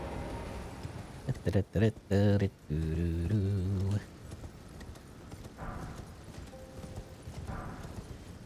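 Hooves clop in quick bursts alongside a horse snort in Elden Ring, followed by softer ambient rumble with faint game sounds.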